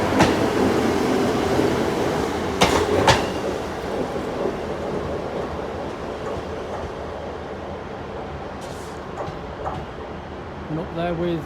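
A Northern train service to Leeds at Sheffield station gives a steady, heavy rumble with a few sharp metallic clanks, while voices murmur in the background.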